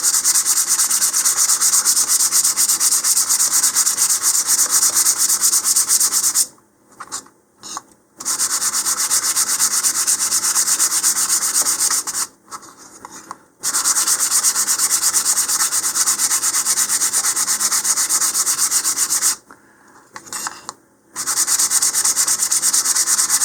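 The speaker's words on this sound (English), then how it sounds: "run it across my sandpaper a couple of times" Model rocket parts for an Apogee Katana Jr are rubbed on 220 grit sandpaper in steady, close scraping strokes, broken by three short pauses, with no talking.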